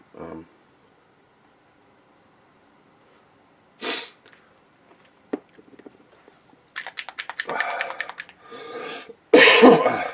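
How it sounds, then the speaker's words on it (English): A few sharp coughs and sneeze-like bursts from a person with a cold break a mostly quiet background, scattered irregularly, ending with a loud, close cough. "I'm sorry for the coughing."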